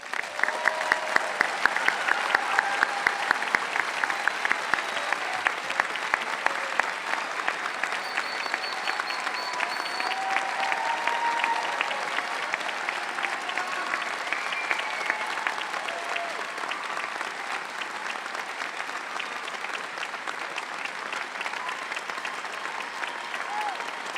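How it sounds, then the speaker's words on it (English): A large audience at a doctoral graduation commencement breaks into sustained applause for the graduates, a dense, steady clapping that fills the hall and slowly tapers without stopping. "Please let's applaud the graduates."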